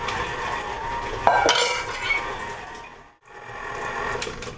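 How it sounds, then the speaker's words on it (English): Stand mixer running on slow speed as pecans are mixed into cookie dough for pecan sandies, a steady close mechanical churning with clattering and scraping, briefly dropping out before resuming. "we're going to let it run on slow. All right, in with the nuts."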